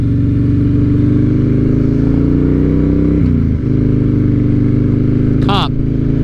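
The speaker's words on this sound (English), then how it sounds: "It just rumbles. I love the pipes. Pipes sound great. This bike sounds great." A Harley motorcycle idles with a steady, deep rumble through its pipes, the low throb continuous and close, briefly dipping midway, with a short high-pitched squeal near the end.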